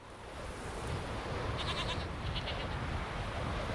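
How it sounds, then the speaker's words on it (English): Goats bleating in The Witcher 3: Wild Hunt, a few short repeated bleats near the middle over a steady ambient wash of game wind and background noise, with no talk. "We do have goats here"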